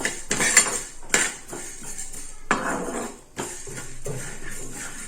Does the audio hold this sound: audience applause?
no